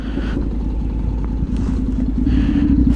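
A Honda NC700X motorcycle riding with a newly installed tall windscreen, steady engine drone and wind rumble running continuously at close range.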